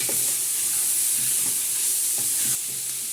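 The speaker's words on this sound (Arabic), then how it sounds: "هنحط بقى الاول كده السبيط وهنقلب" Squid stirred and sautéed in a pot with onion for seafood soup, giving a steady close sizzle and frying hiss with a few soft stirring scrapes, no talk.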